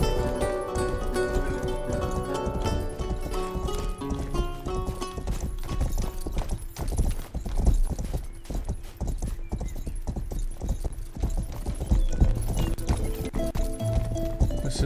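A horse gallops in the video game Rustler, hooves drumming in a steady, rapid clip-clop rhythm throughout, with a brief whinny and light background ambience.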